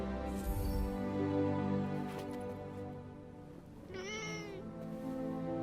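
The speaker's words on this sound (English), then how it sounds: "Hey, that cat. Did it tail us here?" A cat meows in the video game Forspoken, a few drawn-out, pitch-bending calls heard close and clear over a steady musical game soundtrack, with no talking.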